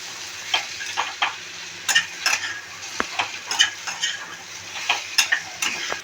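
Spice masala with a pinch of cumin powder sautéed in a pan for fish curry, a soft sizzle under irregular scraping strokes of a spoon against the pan, close by with no talking.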